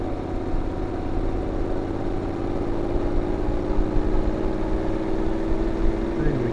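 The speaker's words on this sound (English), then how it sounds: "Bike's in second gear, so it's chugging along there." A Honda NC750X motorcycle engine chugs steadily in second gear down an icy mountain road, a low continuous rumble with wind noise around it and no clear speech.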